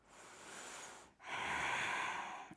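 Deep, slow breathing during a yoga session, close and soft: a long airy inhale followed by a brief pause and a fuller, stronger exhale, with no talking.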